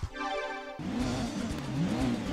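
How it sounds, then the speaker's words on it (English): A Chevrolet Corvette engine in Gran Turismo 2 drones and wavers in pitch as it accelerates, following a brief high whine, steady and moderately loud. "It's not quite the V8 noise you would expect from a Corvette"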